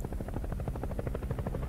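Helicopter in the video game Saints Row 4, a steady low rotor chop with rapid regular pulses, loud and close throughout without speech.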